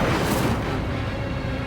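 An Incendio fire spell blast in Hogwarts Legacy erupts as a single loud, low burst and then decays into a sustained rumbling roar, with no voices.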